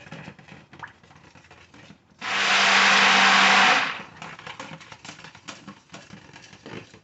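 An electric blender whirs loudly for about two seconds through thickening soap batter, rising abruptly and cutting off, with quieter scraping and stirring noises before and after.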